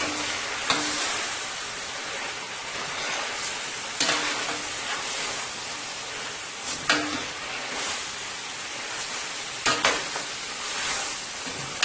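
Chicken wings stir-frying with sweet peppers in a pan. A continuous close sizzle is marked by four or five louder bursts as the food is stirred, with no voices.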